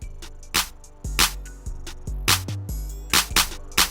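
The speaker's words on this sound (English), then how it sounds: "I added these claps" Sharp clap hits added to a cinematic trap-style beat land in a syncopated rhythm over a sustained melodic backing and a deep bass line, loud and up front, with no voices.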